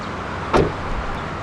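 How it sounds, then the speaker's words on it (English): 2014 Mercedes-Benz B 200 being unlocked and its door opened, a brief sharp unlock clunk followed by a quiet whirring hum as the mirrors fold out, close by and with no talking. "Upon unlocking the doors and opening it up, the mirrors will automatically fold out."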